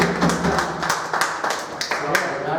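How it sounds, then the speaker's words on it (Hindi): An audience gives a speaker a round of clapping at a gathering. Sharp individual claps sound over a steady patter of hands, with voices talking underneath. "आइए हाफिज रईस साहब के लिए जोरदार तालियां, बहुत जबरदस्त"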